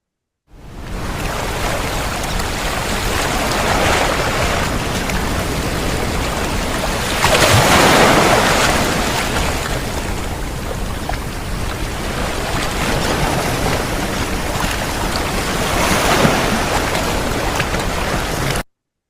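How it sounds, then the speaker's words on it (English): Ocean waves for ASMR, a steady broadband wash of surf that swells in two gentle surges, continuous and fairly loud, with no voices. "This next one is ASMR wave sound."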